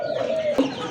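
A big-size pure desi pigeon pair coos in a low, continuous throaty burble lasting about a second, close and fairly loud with light background noise.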